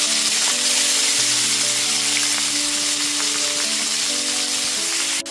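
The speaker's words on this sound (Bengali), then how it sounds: "তারপরেতে দিয়ে দিচ্ছি 5টা মিডিয়াম সাইজের চপ করে নেওয়া পেঁয়াজ।" Five medium chopped onions frying in hot oil after the tempering, for a loud, continuous sizzle and hiss under background music, with a brief clatter at the end.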